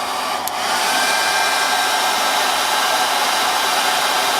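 An electric heater fan on its second setting starts up with a click and settles into a loud, steady, breathy whoosh of blown air that continues without talk.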